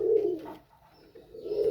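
Breeding pigeons coo in low, throaty bursts, one near the start and one near the end, with a quieter gap between them and no talking.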